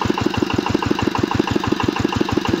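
A Zubr 8 hp walk-behind tractor engine runs steadily beside a potato field set for autumn ploughing, with a close, loud, evenly repeating thump at a brisk idle.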